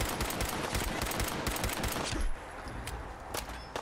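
A turret in Fallout 4 firing sustained automatic bursts, loud and close, a steady rattling stream that eases slightly after about two seconds but keeps going with scattered sharper shots, no voices heard.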